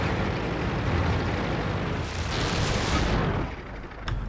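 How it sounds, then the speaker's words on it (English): A booming tank cannon shot from a WZ-131 in World of Tanks rolls out loud and close, its heavy rumble lasting a few seconds before fading into a short tail. "I take a blind shot after he disappears"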